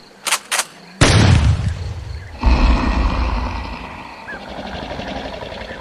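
Assault rifle fire from a police officer aiming at a large winged beast: a couple of sharp clicks, then a sudden loud blast and a second heavy boom that rumble and fade into outdoor ambience.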